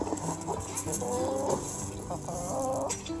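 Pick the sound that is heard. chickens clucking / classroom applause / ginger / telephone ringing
chickens clucking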